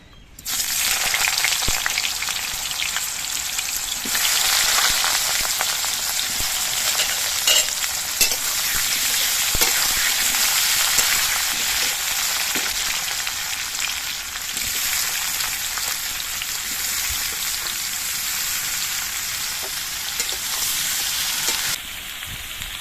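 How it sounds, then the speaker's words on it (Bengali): Young jackfruit frying in hot mustard oil, a loud, steady hissing sizzle with intermittent stirring scrapes, starting abruptly and easing slightly near the end, with no talking. "তেলটা গরম হয়ে গেছে এবার এঁচড়গুলো দিয়ে দিচ্ছি"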